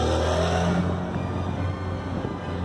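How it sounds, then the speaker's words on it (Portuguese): A noisy car passes by on a street, its engine loud and continuous throughout, with a low rumble that eases slightly midway and then holds steady. "carro barulhento"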